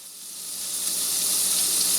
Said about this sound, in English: So I'm going to start by adding some butter to a hot pan.